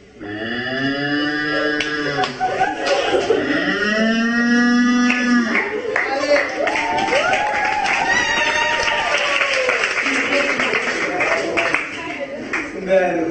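A crowd of people imitate cows mooing, with several overlapping drawn-out moos rising and falling together over about thirteen seconds, loud and close, mixed with scattered clapping and laughter.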